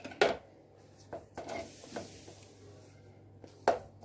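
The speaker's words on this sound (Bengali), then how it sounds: "এর মধ্যে দিয়ে দেবো দুধ, আর এগুলো সমস্ত মিশিয়ে নেবো আস্তে আস্তে।" Milk being stirred into beaten eggs for an omelette in a bowl, heard as a few sharp utensil clinks against the bowl separated by soft scraping and quiet swishes, close and faint.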